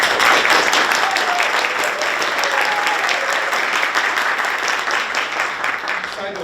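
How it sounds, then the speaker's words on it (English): Sustained applause from an audience at a school future-teacher signing ceremony, a dense, even wash of many hands clapping that holds steady throughout, with faint voices underneath. "Give a round of applause."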